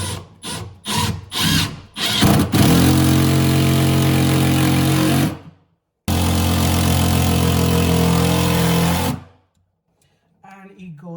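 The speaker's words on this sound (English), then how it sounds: "to do our screw, we're gonna move this plate and we're gonna screw the screw" A power drill drives a screw into a kitchen cabinet during installation with Bessey clamps: several short whirring bursts, then two long loud runs separated by a brief pause, stopping to quiet handling noise.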